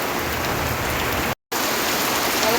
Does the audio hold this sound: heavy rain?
yes